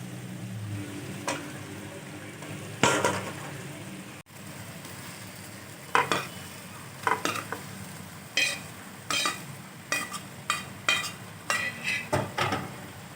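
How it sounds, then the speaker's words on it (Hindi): Okra stirred into a masala in a frying pan, with a spatula scraping and clinking against the pan in irregular bursts over a soft, steady sizzle. "अब इसमें भिंडी शामिल करते हैं।"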